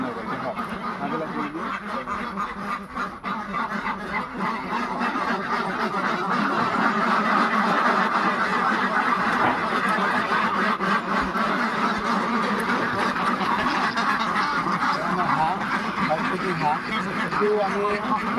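Ducks on a duck farm quack loudly and continuously, the overlapping calls of a large flock filling the whole stretch without a break.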